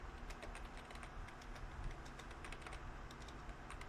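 Keys pressed on a computer keyboard while running R code, a steady patter of close, quick taps over a constant background hum, no speech.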